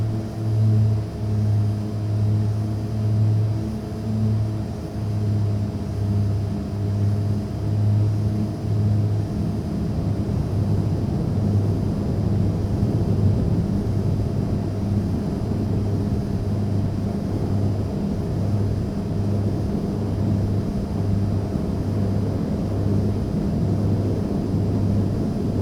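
Twin turboprop engines of a Carenado 690B Turbo Commander in X-Plane 11 drone steadily through a takeoff roll, a loud sustained hum with pulsing low tones that smooth into a broader roar as power builds, with no one speaking.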